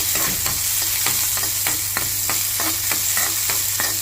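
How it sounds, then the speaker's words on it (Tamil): Small onions (shallots) sizzle in hot ghee over a high flame for a chicken stew, with a spoon stirring them in a steady run of scraping strokes over a continuous frying hiss. "நம்ம சின்ன வெங்காயம் இருக்குல்ல, அதை போட்டு நல்லா மிக்ஸ் பண்ணிக்கோங்க"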